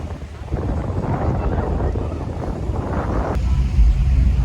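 Steady wind buffets a microphone outdoors on a breezy, sunny day near choppy water, a broad continuous rumble that swells louder toward the end.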